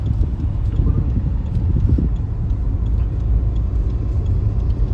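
Maruti Brezza CNG car cruising on a highway at around 80-90 km/h, a steady, loud low road-and-engine rumble with continuous tyre noise and no break.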